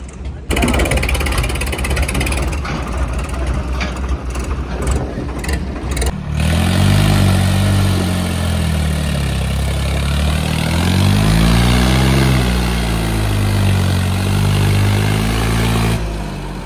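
A heavy Swaraj tractor engine labors and revs while stuck, unable to climb, rising and falling in pitch, loud and close, with voices talking over it early on.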